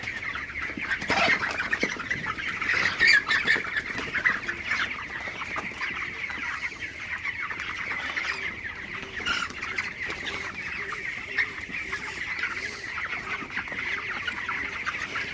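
A flock of broiler chickens in a poultry shed, on their twenty-second day, clucking steadily with a dense overlapping chorus of chirps and calls, loud and continuous throughout, with no talk.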